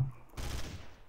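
Gunfire in the game Trouble in Terrorist Town: a short burst of rapid shots lasting about a second, moderately loud and fairly close, with no talk over it.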